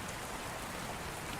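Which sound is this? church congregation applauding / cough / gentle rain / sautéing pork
gentle rain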